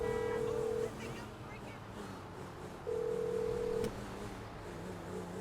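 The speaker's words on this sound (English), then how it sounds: "Then just keep spamming to bring up your phone and make random calls" Mobile phone in GTA 5 dialing random calls: two steady electronic dial tones, a longer one and then a shorter one after a pause, over quiet game background ambience.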